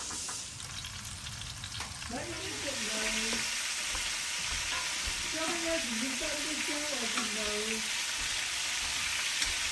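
Possum meat fries in a skillet with a steady, loud sizzle, trapline meat crackling in hot fat throughout while a voice talks over it in two stretches.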